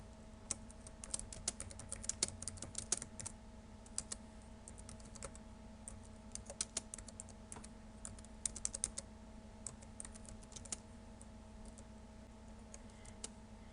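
Steady keystrokes on a computer keyboard as code is typed, a run of light irregular clicks with occasional louder taps, close and clear over a faint hum, with no talking.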